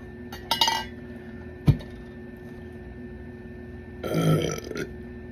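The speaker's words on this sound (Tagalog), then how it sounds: "Bakit? Di kayo dumidighay?" A loud, wet burp erupts during a krispy pata (crispy pork knuckle) mukbang, a single close burst amid faint clinks of cutlery and dishes, followed later by a louder chewing or second belch-like rumble.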